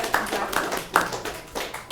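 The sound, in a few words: applause at board meeting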